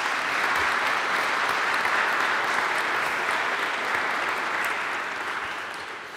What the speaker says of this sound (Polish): Dla niego brawa